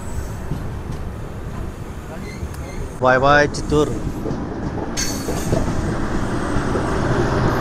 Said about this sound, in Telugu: మన వెంకటాద్రి ఎక్స్ప్రెస్ అయితే రెడీగా అయితే ఉంది బయలుదేరడానికి